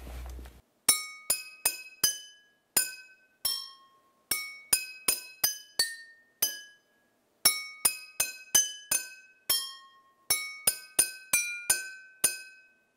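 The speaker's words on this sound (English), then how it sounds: "when we put water into glasses and then play them with a piece of silverware" Water-filled glasses are struck with silverware, giving bright ringing clinks at different pitches. They are played in quick melodic runs separated by short pauses, each note decaying cleanly against silence.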